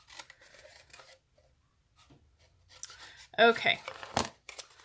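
Scissors snip through cardstock for a Stampin' Up! spring or Easter basket with lid, cutting up to a score line; a few close, crisp crunching cuts come in a short burst after a brief spoken word.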